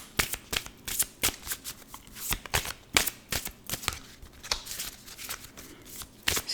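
A deck of cards is shuffled close by in repeated quick riffles, each a sharp fluttering burst, with brief pauses between them and no voices.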